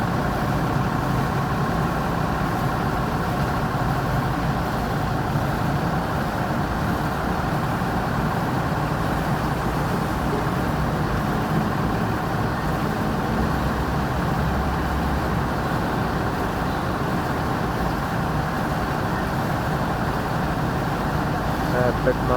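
A Skyliner Armada executive coach with the older type-21 engine idles in a steady, loud drone that fills the scene, with talk over it.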